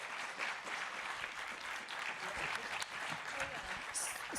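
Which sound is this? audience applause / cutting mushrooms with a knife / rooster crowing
audience applause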